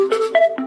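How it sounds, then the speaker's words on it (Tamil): A Bluetooth speaker, one of several low-priced gadgets, plays a short electronic power-on chime of about three quick tonal notes that step in pitch. It sounds clear and close, with no voices over it. "ஃபர்ஸ்ட் இதோட பவர் ஆன் பட்டனை வந்து நீங்க பவர் ஆன் பண்ணிக்கணும்."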